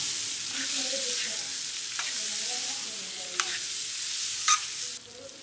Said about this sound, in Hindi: अच्छी तरह मिक्स करें।